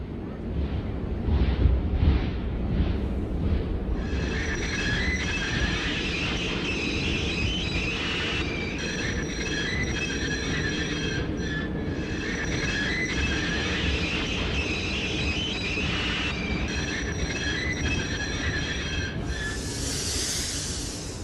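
A train rumbles steadily along the rails with sustained mechanical hiss and high metallic tones, continuous throughout.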